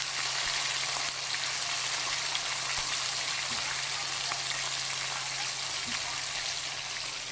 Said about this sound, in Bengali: ভোলা মাছ আমি একটা একটা করে দিয়ে দিচ্ছি। ভালোভাবে ভেজে নেব